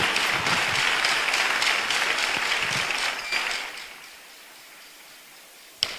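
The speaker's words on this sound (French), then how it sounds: "Clap for Jesus." A church congregation claps together in a dense, sustained burst of applause that fades away after a few seconds, leaving quiet room noise and a final sharp knock.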